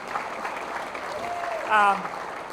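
An audience claps at a Pie Night show, a soft spread of applause running beneath a person speaking, swelling briefly near the end.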